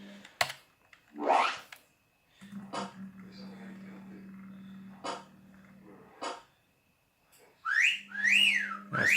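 Short rising whistle blasts from a ticket-awarding video game sound near the end, following scattered clicks and a steady low hum, with no voices.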